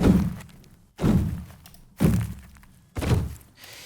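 Layered stomp kick built from heavy thuds and little stone crunches, four deep booming hits about one second apart, each with a gritty tail, loud and close.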